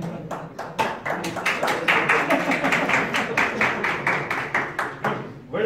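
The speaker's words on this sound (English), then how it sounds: "So big round of applause for team two and for all the teams." An audience claps together after a team presentation at a lunch event, a steady run of sharp claps of moderate loudness that thins out toward the end.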